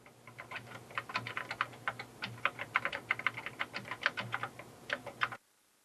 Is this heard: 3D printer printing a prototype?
no